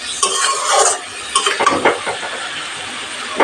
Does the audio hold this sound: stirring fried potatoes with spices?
yes